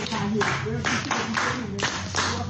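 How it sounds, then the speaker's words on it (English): Children's clapping for a young girl comes in several short, loud bursts of rapid claps separated by brief pauses, close and full-bodied, with some voices underneath. "Please clap for her."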